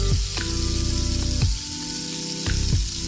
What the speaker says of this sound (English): And then you're going to drizzle in some olive oil.